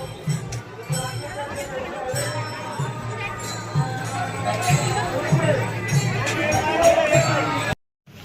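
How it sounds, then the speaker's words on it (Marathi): Large dense crowd during pilgrim dindi processions in Alandi, a steady babble of many voices with occasional clinks and footsteps, loud and continuous, with talk close by, cutting out abruptly at the end. "तुम्ही बघू शकता खूप गर्दी आहे आणि एकामागा एक खूप दिंडी येत आहे"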